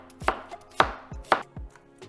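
Knife slicing an onion on a cutting board: three crisp, sharp cuts at an even pace, then a couple of softer taps, close and clear in a quiet room.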